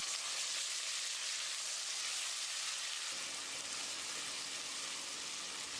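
Two chopped medium-sized native tomatoes sauté in a pan for egg biryani, a soft, even sizzling hiss that stays faint and continuous with no voices.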